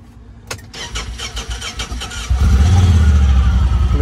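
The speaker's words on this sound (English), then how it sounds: "Let's start her up so you guys can hear what she sounds like." A 2021 Honda Talon special edition side-by-side cranks with a rapid starter chatter, catches, and settles into a loud, deep idle with no talking.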